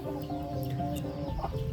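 Free-range chickens clucking as they peck at termites, a steady run of close, overlapping clucks and soft calls from several birds with no talk.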